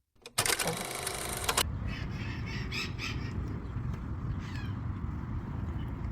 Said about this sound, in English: I'm going to try not to disturb these parrots, Toya, so you can see them